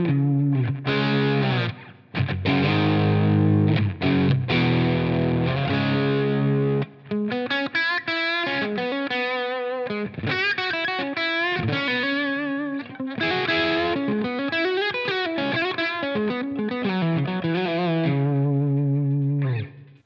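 A distorted electric guitar through a REVV Shawn Tubbs Tilt Overdrive pedal plays loud overdriven chords and then a melodic line, thick and saturated with a wide, chorused sound.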